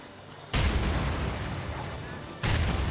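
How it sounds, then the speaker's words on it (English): Grenade explosions in the World War II strategy game Company of Heroes 2, two loud booming blasts in a row, the first rumbling on for nearly two seconds before the second hits. "We're going to toss a ton of grenades in here."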